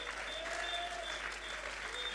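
A church audience claps and cheers steadily at a gathering with Prophet Emmanuel Amoah, heard as dense, continuous applause from a distance, with a voice speaking over it.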